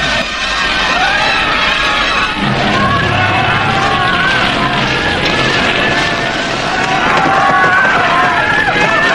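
A distant crowd screams and wails in a dense, continuous mass of cries, with a low rumbling underneath.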